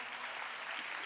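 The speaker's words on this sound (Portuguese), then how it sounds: "Aplauda o Senhor." A church congregation at a women's conference applauds together, a steady dense wash of clapping with no break, fairly soft and evenly sustained throughout.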